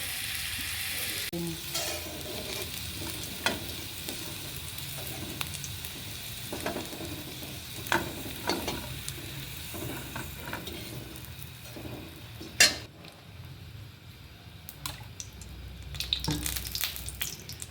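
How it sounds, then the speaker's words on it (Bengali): Oil sizzles steadily as potatoes fry in a pan of oil left from frying hilsa fish, with occasional scrapes and clinks of a utensil stirring. "এটার মধ্যে আমি আলুটা ভেজে নিচ্ছি"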